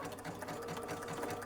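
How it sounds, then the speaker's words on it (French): A sewing machine runs steadily while stitching coiled rope into a basket, giving a continuous close, busy mechanical whir with no pauses and no talking. "Je vais juste faire 2-3 points parce que je l'ai sorti de la machine à coudre"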